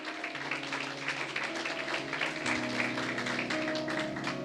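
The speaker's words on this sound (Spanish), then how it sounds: "Esto merece un aplauso a nuestro Dios." A church congregation applauds in a dense, steady patter of many hands, with sustained musical tones ringing underneath for the whole stretch.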